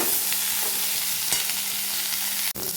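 Raw banana pieces fry in hot oil, giving a steady close sizzle with faint stirring scrapes and a sharp clack near the end.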